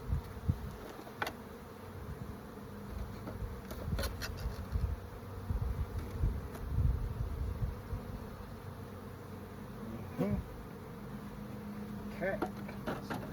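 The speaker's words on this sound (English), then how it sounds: "Release the bees into the hive." Honeybees released into a hive buzz in a steady, close swarm drone, with a few sharper wingbeat passes and faint handling knocks, while a person talks softly at times.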